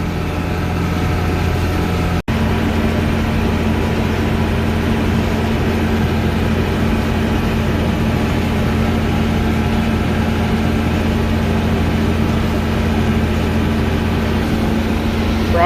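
A tractor engine drones steadily and close by while raking a hay swath up against a line of trees, its low, even rumble holding constant with one brief dropout early on.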